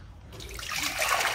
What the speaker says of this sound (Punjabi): ਚਲੋ ਹੁਣ ਆਪਾਂ ਇਹਦੇ 'ਚ ਪਾਣੀ ਪਾ ਦਿੰਦੇ ਹਾਂ